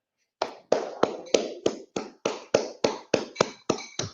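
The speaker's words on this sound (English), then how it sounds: "We got to clap it up." Hands clap in a steady run of about a dozen sharp claps, close and clear against a quiet background, each one ringing out briefly before the next.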